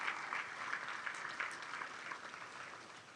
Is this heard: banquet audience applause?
yes